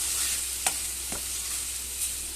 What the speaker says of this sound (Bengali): এবার সব কিছুকে আমি আরেকবার মিশিয়ে দেব